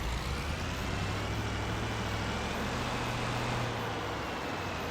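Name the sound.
pickup truck engine in Farming Simulator 25 video game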